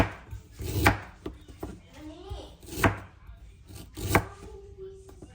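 Ginger being chopped with a knife on a cutting board while preparing paksiw, three loud, evenly spaced chops with quieter taps and small knife sounds between them, up close.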